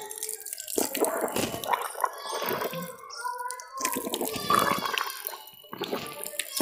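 Water splashing and gurgling as the mouth is rinsed during wudu, the Islamic ritual washing, with irregular nearby sloshes, drips and swishing noises in bursts and a voice briefly audible among them.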